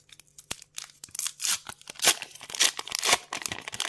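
Foil Panini Adrenalyn XL 2026 football trading card starter packs being torn open: a run of sharp, close ripping and crinkling bursts, getting denser and louder toward the middle, with no talking.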